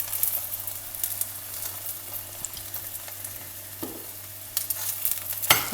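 Egg parotta sizzles steadily on a hot pan, a continuous close frying hiss with a few brief scrapes and a sharper clatter near the end; no one speaks.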